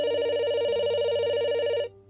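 An office telephone rings in one steady electronic trill lasting nearly two seconds, loud and close, then stops abruptly.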